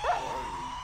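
A single short dog bark or yip from the video game Journey of a Roach, close and clear, trailing into a brief whine.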